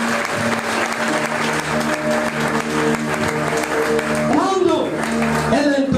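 A church congregation applauds together, a dense, sustained burst of clapping from many hands, with a voice speaking over it toward the end.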